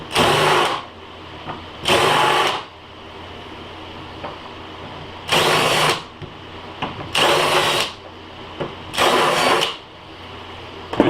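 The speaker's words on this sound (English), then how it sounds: "Give it a quick shot with the countersink again" A countersink bit drills into a homemade guitar tremolo blocker in five short, loud whirring bursts separated by quiet pauses.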